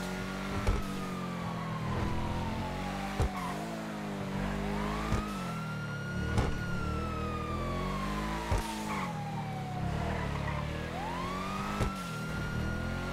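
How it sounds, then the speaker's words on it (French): A car drives through a GTA roleplay game world while a police siren wails and sweeps continuously throughout, with engine rumble underneath and sharp intermittent knocks or impacts; no voices. "j'ai entendu une voiture là"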